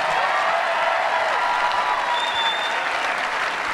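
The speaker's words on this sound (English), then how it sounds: "Let's give her a great big round of applause." A tennis crowd at the 2013 Charleston final applauds past champion Jelena Jankovic, a thick, continuous roar of clapping from many hands, loud and unbroken throughout.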